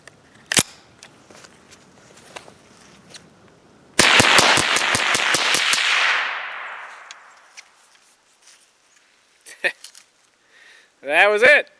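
A Marlin 795 semi-automatic .22LR rifle fires a rapid string of about eight sharp cracks outdoors, with a ringing echo trailing off afterward; scattered quieter clicks come before, and a voice speaks at the end.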